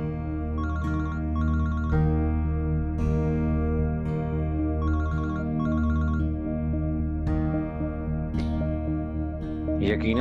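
An electronic ringtone repeats in short bursts over a steady musical background, left ringing without being picked up, fairly loud throughout.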